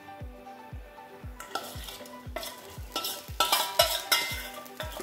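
A spoon stirs cooked green gram tossed with grated coconut in a frying pan, making repeated scraping strokes over a soft background sizzle, steady and close with no talking.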